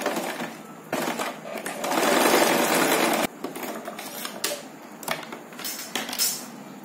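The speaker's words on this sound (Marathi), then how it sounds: "मी तुम्हाला आता एक बाजू शिवून दाखवते याची" A sewing machine stitches the side seam of a zip pouch, running in a steady close whir with a few brief pauses and no one speaking.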